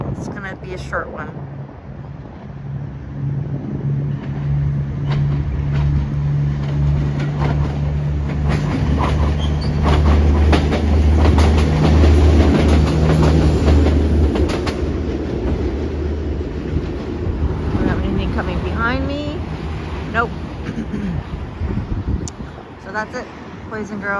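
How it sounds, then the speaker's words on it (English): A train passes close by at night in Toronto, with a loud continuous rumble and rhythmic clatter of rail cars building to a peak midway before easing off, and wind noise over the microphone. "We have a train coming, so we're going out with a bang"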